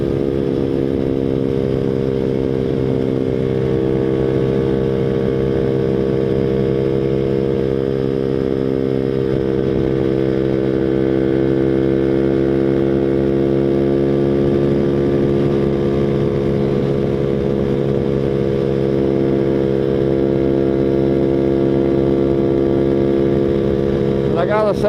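A Boom Vader Grom clone motorcycle runs continuously while being ridden, its steady engine drone holding a fairly even pitch with slight rises, loud and close from an onboard position throughout.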